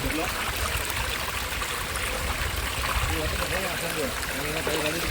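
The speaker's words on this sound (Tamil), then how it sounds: "தாமிரபரணி தண்ணி" River water flows and trickles steadily close by, a continuous bubbling rush with no talking.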